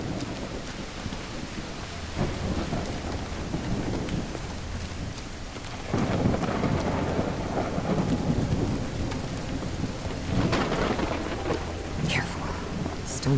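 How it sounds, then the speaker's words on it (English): Steady heavy rain with rumbling thunder in the video game Call of the Elder Gods, a continuous wash that swells louder partway through, with a voice speaking over it. "It's raining cats and dogs here."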